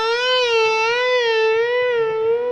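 A single sustained electric guitar note is bent up a whole tone and held with slow, wide vibrato, so the pitch wavers gently for a couple of seconds, played alone.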